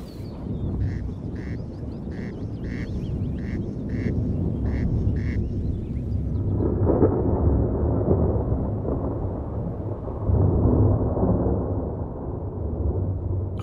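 A thunderstorm rumbles low and steady with heavy rolling thunder and wash of rain, loud and sustained, while a few rhythmic quacking calls sound near the start.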